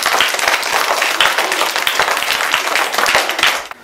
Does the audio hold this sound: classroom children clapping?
yes